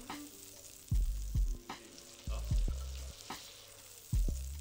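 Butter sizzles and spits in a new cast-iron frying pan, a steady crackle broken by several low thuds and knocks as the pan or utensil is moved, with no talking.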